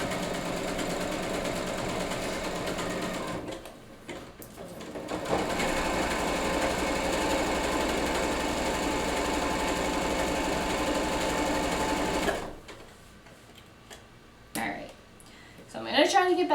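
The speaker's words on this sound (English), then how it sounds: "I'm going to try to get back to sewing for a little bit. And sew one more of these panels" Sewing machine stitching panels of upcycled denim jeans, a steady close mechanical whir running for long stretches, stopping briefly near four seconds and again after about twelve, with faint handling noises in the gaps.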